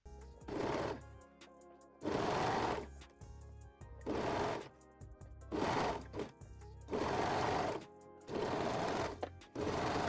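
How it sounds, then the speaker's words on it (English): A serger sewing machine stitches a seam on thong panty fabric, running in repeated fast whirring bursts of about a second each, separated by short pauses, close and steady. "sew the seam with a serger or zigzag stitch"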